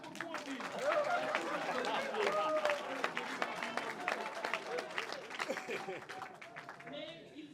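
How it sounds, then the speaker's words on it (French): An audience claps and cheers at an event honoring comedian-actors, loud and dense throughout. Crowd chatter and voices mix in under the clapping. "Applaudissez pour moi"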